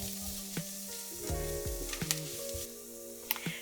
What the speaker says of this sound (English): we're gonna add our garlic. Cook this for 30 seconds to a minute